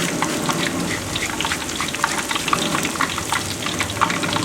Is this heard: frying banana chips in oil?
yes